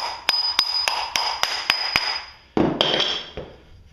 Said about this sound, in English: once you get the nut loose, you can just take and hold these two ears right here and take and tap this nut